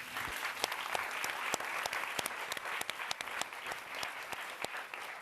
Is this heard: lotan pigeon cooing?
no